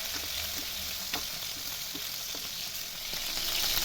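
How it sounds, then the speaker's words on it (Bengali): Chicken pieces fry in oil in a pan, browning on one side before being turned, giving a steady, close hiss of sizzling with a few faint scrapes and pops and no voices. "একটা পাশ ভাজা হয়ে গেছে, আমি এবার উল্টিয়ে দেবো"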